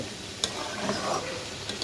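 Potato and pointed gourd fry in a spice paste, heard as a soft, steady sizzle with a couple of brief utensil taps.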